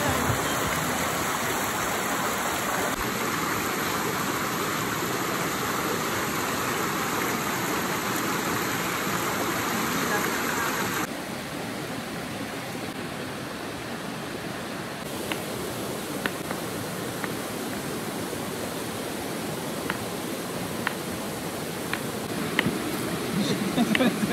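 A river stream at Lubuk Jong, Sedim, Malaysia rushes steadily as broad, continuous water noise, with a few faint clicks and knocks near the end.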